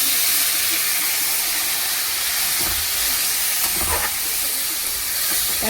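Water poured into a hot pan of fish during cooking sets off a loud, steady steam hiss that runs throughout, with a few soft clatters partway through.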